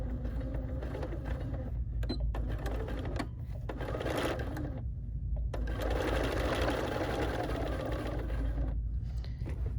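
A sewing machine stitches around lace leaf and flower motifs on a bridal veil, its steady motor hum and rapid needle chatter running nearly continuously with a few brief pauses while the fabric is pivoted.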